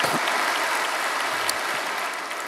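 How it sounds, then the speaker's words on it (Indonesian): Church congregation applauding in praise of God, a steady dense wash of clapping from a crowd in a worship hall, sustained evenly throughout and fading slightly toward the end. "Berikan tepuk tangan kita untuk Tuhan kita"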